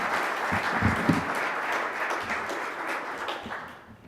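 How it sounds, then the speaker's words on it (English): Audience applause for a presenter at a data center industry conference talk on cloud infrastructure, a dense, steady wash of clapping from a seated crowd that holds for several seconds and then begins to fade. "Can we give him a warm round of applause"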